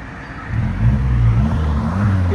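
Exhaust note of a 2017 Audi Q3 with a 2.0L turbo engine and muffler delete, a deep, steady drone that swells slightly as the revs rise, close and loud without any voices.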